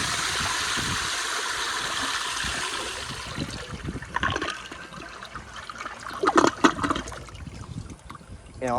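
A 1998 American Standard Spacesaver Cadet toilet on a flushometer flushes a thin dish towel: a loud, steady rush of water that turns into gurgling, sloshing surges and trickles as the bowl drains, heard close up.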